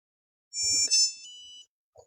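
An FPV drone transmitter, part of a BETAFPV Cetus kit, gives a short electronic power-on tone sequence, bright and fairly quiet, followed by a faint tiny blip a moment later.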